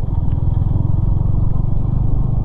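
A motorcycle cruises on a highway between Manali and Delhi, its engine throbbing with a loud, steady, close drone and some rattling clatter. No one speaks.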